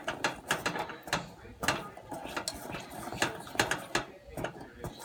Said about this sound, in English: But you gotta constantly keep stirring it.